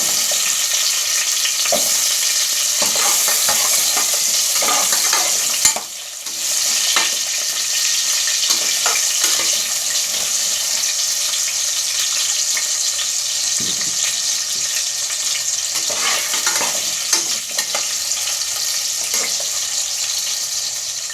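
Potatoes for beef kaldereta fry and get stirred in a pan: a steady, close, dense sizzle with scattered scraping stir clicks, a brief dip partway through, and no talking.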